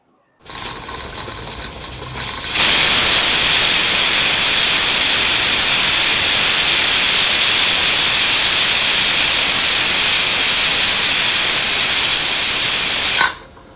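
Loud, steady hiss of a pressure cooker whistle releasing steam on high flame, starting softer then jumping to a sustained high-pitched rush before stopping abruptly.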